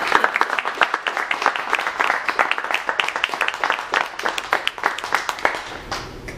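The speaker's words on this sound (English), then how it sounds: "How about a round of applause?" Audience applause at a Startup Grind business talk, a dense burst of many hands clapping steadily for several seconds, loud and close, tapering off at the end.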